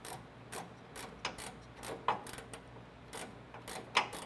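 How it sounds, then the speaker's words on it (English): Faint, close ratcheting clicks come in quick irregular bursts as a wrench tightens bolts on an electric headlight door kit on a 1968–1969 Camaro RS, with no talking. "We're gonna use a 3/8 wrench on the bottom of it here and a 7/16 on the top."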